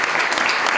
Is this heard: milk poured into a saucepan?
no